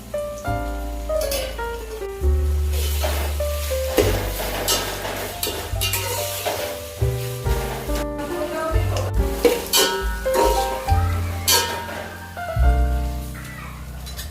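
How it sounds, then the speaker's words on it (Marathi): Tomatoes and spices are stirred into browned onions for a spicy mutton rassa, with soft sizzling and scraping strokes in the pan. Prominent background music plays over the cooking throughout. "कांदा भाजून झालेला आहे। त्यानंतर आपण यामध्ये टोमॅटो आणि मसाले ऍड करून घेणार आहोत।"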